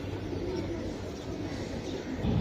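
A Giribaz pigeon, a Bengali high-flying breed held for sale, coos softly in low, rolling murmurs close by, with faint voices in the background.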